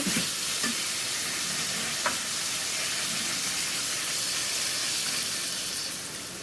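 Water poured into a pan of frying spice masala coloured with chilli powder sets off a loud, steady steaming sizzle and hiss that stays close and constant, then eases slightly near the end.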